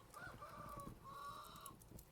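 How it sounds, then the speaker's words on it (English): A rooster in the video game Vintage Story crows twice in drawn-out calls, fairly close and clear over a steady ambient background, with no talking. "Shut up, rooster."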